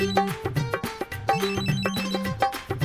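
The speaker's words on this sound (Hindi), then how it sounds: "भाभी, फोन आया आपका।" A telephone rings in a repeating electronic ringtone pattern, bursts of tone with short gaps between them, loud and close with no talking over it.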